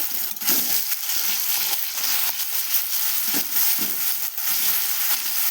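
Onions fried red, then coconut paste added, sizzling in a pan while prawns are cooked; a steady broadband hiss with scattered clicks and scrapes of stirring, close and fairly loud throughout.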